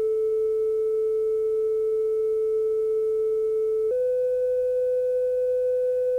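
A steady pure sine tone plays alone, then steps abruptly to a noticeably higher pitch partway through, showing a Doppler shift where the observer hears a higher frequency than the source emits.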